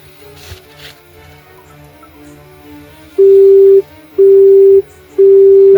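A phone call cut off, followed by three loud, steady beeps of the disconnected tone at an even rhythm, each about half a second long with short gaps, after a quiet stretch of faint background noise.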